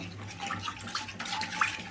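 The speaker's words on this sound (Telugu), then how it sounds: "నేను ఒక గ్లాస్ వాటర్ అయితే పోసుకుంటున్నానండి" A glass of water is poured into paneer butter masala gravy in a pan with a soft, quiet splashing trickle and a faint clink of utensils.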